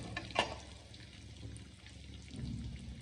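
Peanuts frying in a pan for puliyogare rice give off a faint, steady sizzle with a few small crackles and pops, quiet and continuous.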